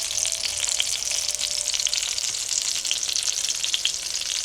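Eggplant slices fry in a pan of hot oil, making a loud, even sizzle that crackles close by for the whole stretch without any speech.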